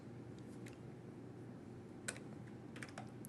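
Faint, scattered keystrokes on a computer keyboard as an ASA clear config all command is entered, a few soft clicks in short bursts over a quiet background.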